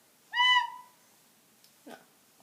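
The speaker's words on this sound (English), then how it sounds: "Make sure it's covering the holes, because if there's any leakage, which means it's not covered, it will make this sound." A soprano recorder played with uncovered holes leaking air, giving one shrill, piercing squeak that fades, then a couple of faint breathy noises.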